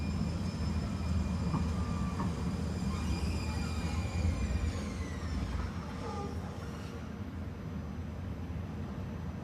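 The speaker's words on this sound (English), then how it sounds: "Especially since the train's coming." Train rolling past on railroad tracks, a loud continuous rumble with faint squeals of wheels on rails, gradually easing as it goes by.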